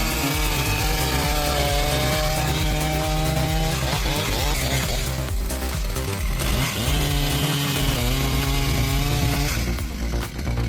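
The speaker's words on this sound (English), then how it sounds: "Chainsaws operate using a motorized spinning chain with sharp teeth that move around a guide bar at incredible speed." A powerful wood crusher machine grinds and roars continuously, a loud, dense mechanical churn that does not let up.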